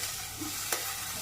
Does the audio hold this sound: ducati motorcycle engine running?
no